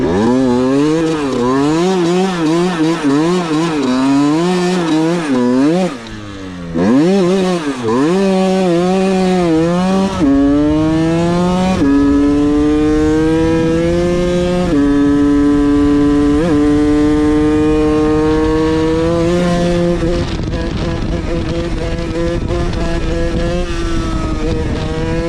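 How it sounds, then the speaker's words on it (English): A Honda HM 50 moped is ridden hard at speed, its small two-stroke engine buzzing loud and close, pitch climbing through each gear, dipping at the shifts, then holding a high steady whine. "Bike ride!"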